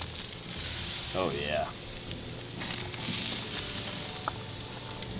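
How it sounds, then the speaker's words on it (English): Pork chops sizzle on a charcoal grill as fat drips onto the coals, a steady mid-level fry with faint crackles and flare-ups under a man's brief spoken remark. "You can see the combustion, all that pork fat dripping down on the coals."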